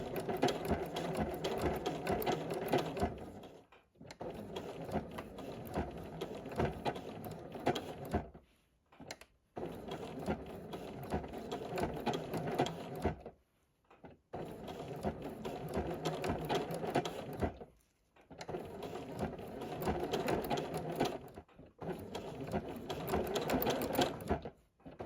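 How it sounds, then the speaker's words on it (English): A sewing machine runs a straight stitch across a rag quilt in long steady whirring runs, stopping briefly between passes, close up with no talking. "now is the time to line up again with a straight stitch"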